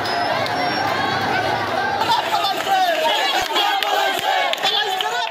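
A large street crowd in the Dhaka area of Bangladesh celebrates a mass-uprising victory, with loud continuous shouting, chanting cries and chatter from many voices nearby.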